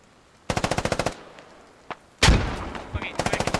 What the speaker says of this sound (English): Grenades flying in. More grenades coming.